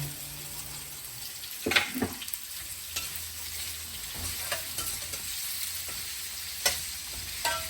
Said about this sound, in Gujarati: હવે આપણે એડ કરીશું સ્લાઈસ કાંદા.